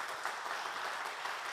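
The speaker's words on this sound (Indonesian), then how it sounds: "Beri tepuk tangan buat Tuhan kita." A church congregation claps together during a worship service, steady dense applause filling the room without pause from start to finish.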